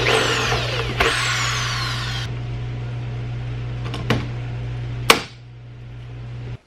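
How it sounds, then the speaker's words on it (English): A power drill whines as it bores holes through an aluminum ruler on a snowmobile cargo box, its pitch sliding down over a steady electric hum. Sharp snaps of riveting follow, the last one loudest, then quiet. "I'm gonna drill a couple holes and just rivet it right to the top of this."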